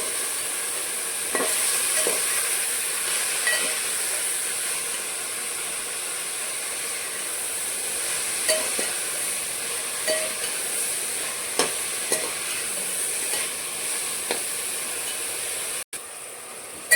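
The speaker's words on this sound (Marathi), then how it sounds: "पालक कापलेली भाजी आपण मिक्स करून घेऊया" Chopped spinach being stirred and mixed in a pan, a soft continuous sizzle and hiss broken by faint periodic scrapes and taps of a spoon, with no talking.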